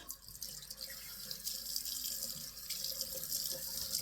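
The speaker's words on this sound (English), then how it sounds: "Let me rinse." A bathroom tap runs steadily into a sink for rinsing, with a continuous hissing splash of moderate, fairly distant loudness and no talking.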